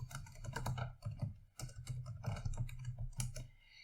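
Someone types on a computer keyboard, producing a quick, close run of clicking keystrokes with brief pauses between bursts and a low steady hum underneath.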